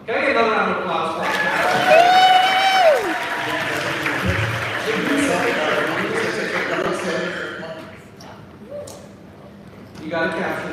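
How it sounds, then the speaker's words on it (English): Applause from a large audience of about 5,000 people at an obesity conference, steady and loud for several seconds, with talking and scattered voices mixed in before it thins out near the end. "Can I get another round of applause for"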